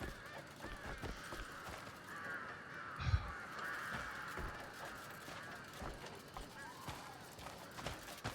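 Crows cawing in the Crimson Desert game world, repeated harsh calls running through a busy background with game noise and someone talking over it.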